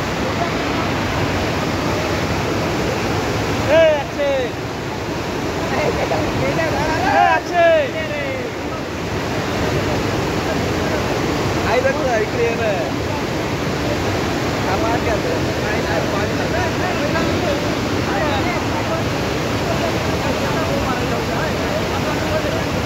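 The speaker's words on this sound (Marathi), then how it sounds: "आता गिरणा नदी पात्रामध्ये या ठिकाणी पाण्याचा विसर्ग जो आहे या ठिकाणी सोडण्यात आलेला आहे" Dam water released into the Girna river rushes in a broad, steady roar, with faint voices briefly heard in the background.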